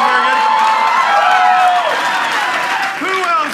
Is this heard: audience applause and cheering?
yes